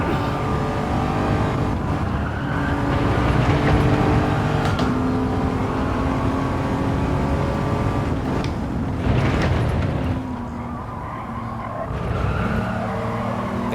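A race car engine in Gran Turismo 7 drones loudly and continuously under throttle, its pitch rising and falling, with brief tire squeal mixed in.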